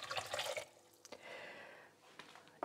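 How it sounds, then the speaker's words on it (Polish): Water poured into a pot while making cranberry kissel, heard as a short, quiet, steady trickling stream with a few small splashes and drips before and after. "to dodam taki pojemnik również wody"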